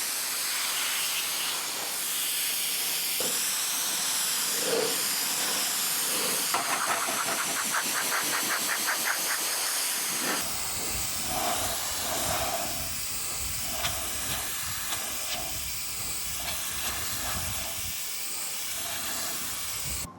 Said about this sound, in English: let's go ahead and bust out the pressure washer. We gotta blast off as much of this junk as we can.